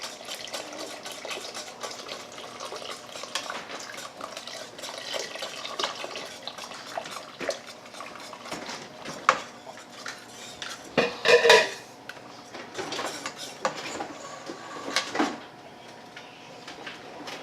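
Metal whisk clinking and scraping against a pot while stirring a thick roasted squash and cheese sauce for mac and cheese, irregular rattling strokes with a few sharper clanks near the end.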